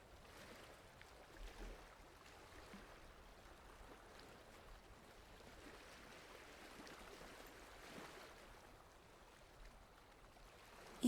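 A soft, steady wash of moving water, like a gentle stream or lapping waves, faint and continuous with no voices.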